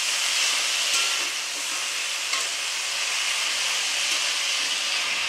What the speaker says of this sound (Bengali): এবার এই শাকটা আমি সবজিগুলোর সঙ্গে ভেজে নিচ্ছি কিছুক্ষণ ধরে।